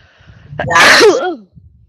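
A single loud, sharp sneeze bursts out close up, rising quickly and trailing off, surrounded by near silence.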